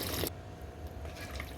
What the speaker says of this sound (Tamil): இப்போ 1 கப் தண்ணி சேர்த்துக்கிறேங்க